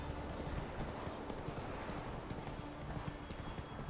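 Clip-clop of horse hooves galloping across a mountain path in The Witcher 3, a continuous quick rhythm heard under a dense, steady background din.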